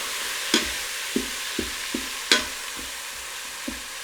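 Sliced meat sizzles steadily in a hot pan for a sub sandwich while a spatula tosses it, giving several scraping knocks at irregular intervals over the constant frying hiss, up close and with no talking.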